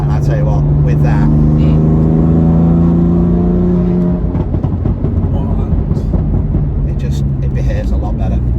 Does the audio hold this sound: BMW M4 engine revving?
yes